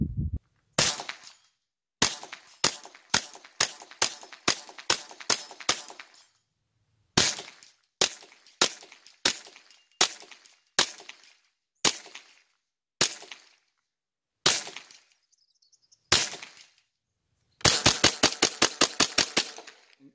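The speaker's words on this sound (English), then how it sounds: "let's just put a bunch more rounds through and then we'll see if we can repeat that." Rifle shots fired one after another at a shooting range, sharp and loud with short gaps between them, ending in a fast string of rapid shots.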